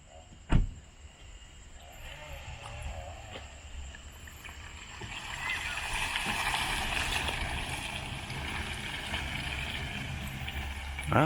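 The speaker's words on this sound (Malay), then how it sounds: "Okay, so sekarang kita nak dengar bunyi kereta ni bergerak." A Volvo XC40 electric car moves off and drives, giving a faint, quiet whir and road rush that swells gradually, with a sharp thump near the start and a knock at the end.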